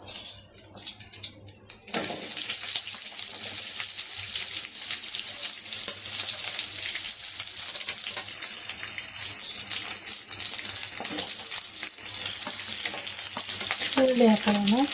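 Onions drop into hot oil in a pan for chicken and field bean sambar, bringing an abrupt loud hiss after a short quiet start that then holds as a continuous, close frying sizzle with occasional clinks.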